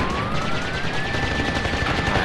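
N. Gin boss's Gatling gun in Crash Bandicoot: Warped, a loud continuous rapid-fire rattle with a rising whine tone over it, dense and unbroken for the whole stretch.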